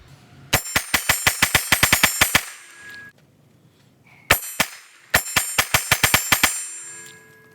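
A Springfield Hellcat pistol fires two fast strings of shots at a steel target, each crack ringing with a long metallic ding that trails off, with a short pause between the volleys and no talking.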